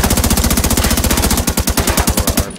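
Rapid automatic fire from a P416 rifle in a video game, a dense run of sharp shots in steady rhythm that keeps going for the whole stretch with no voices over it, the bursts thinning slightly toward the end.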